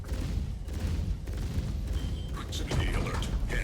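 Spaceship weapons firing in Star Citizen combat, a busy layer of booming shots and mechanical clatter with some bright zapping bursts near the end, mixed with voice-like sounds.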